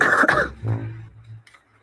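A single sharp cough bursts out close by, followed by a brief throat-clearing rasp and a faint trailing breath.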